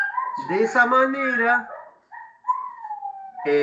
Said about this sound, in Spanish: ¿Se escuchan los perritos?